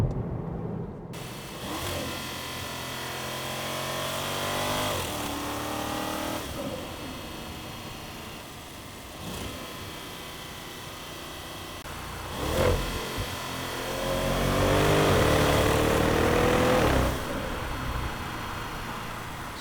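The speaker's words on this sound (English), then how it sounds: "the exhaust and the engine bay mixed together, so you will hear" A car engine idles and revs repeatedly, exhaust rumble blended with mechanical engine noise, steady and close, with louder revving bursts toward the end.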